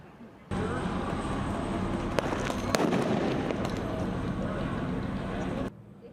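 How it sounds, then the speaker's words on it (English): Fireworks set off by protesters at night in downtown Los Angeles crackle and pop amid a dense, rumbling crowd din, with a couple of sharp bursts standing out midway. "some setting off fireworks and starting fires"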